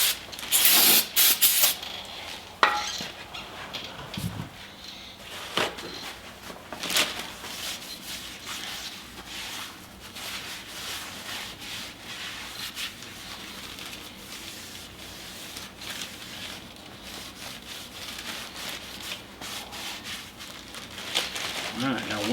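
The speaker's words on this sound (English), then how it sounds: "Now we'll get our new drum out. And clean the inside of it." Cleaning the inside of a new brake drum for a 1972 International Harvester Scout II's drum brakes, with spray bursts, rubbing and wiping, clinks and crinkling close by, loudest at the start and then steadier.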